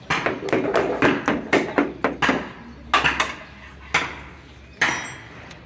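The faulty door of a restored Suzuki Mehran car, heard close up as a quick run of metallic knocks followed by a few heavier, separate thuds.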